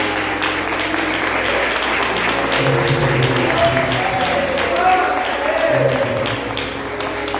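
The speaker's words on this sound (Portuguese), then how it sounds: "Receba com palmas para o Senhor Jesus." Church congregation applauding for Jesus during a Sunday-style worship service, steady sustained clapping filling the whole stretch, with voices and a tonal background mixed underneath.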